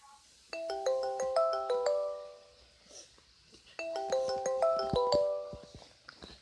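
Phone ringback tone on an unanswered call, two bursts of a repeating melodic ringing pattern separated by a short gap, clear and alone with no talk.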